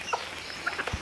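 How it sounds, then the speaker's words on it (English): Large homestead chickens let out a few brief clucks and chirps over soft outdoor background noise, moderately close and with no voices. "Now these guys are our big chickens."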